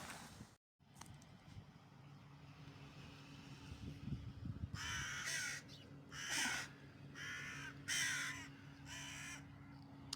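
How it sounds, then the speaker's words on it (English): A crow caws several times in harsh, spaced bursts over a low engine hum, fairly close and loud against the background. "The birds are singing"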